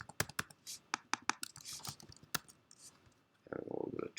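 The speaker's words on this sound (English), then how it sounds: "I'm just going to type in my Facebook information." Typing on a computer keyboard, close, quiet and uneven keystrokes in short irregular bursts, ending with a faint low burst of another sound.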